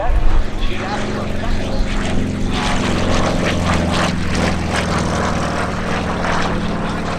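A radial-engine propeller aircraft drones steadily overhead at an airshow, its engine a continuous low rumble with harmonic hum, mixed with broadband wind and engine noise throughout.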